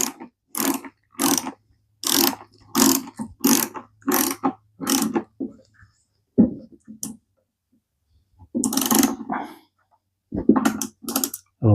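A ratchet tightens the bolt or nut on the guide bar of a Milwaukee M18 Fuel chainsaw, giving bursts of dry mechanical clicking in separate rapid strokes with short pauses between them, close and fairly loud.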